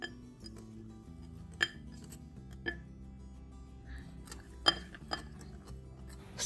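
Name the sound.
stirring Bika Ambon batter with active yeast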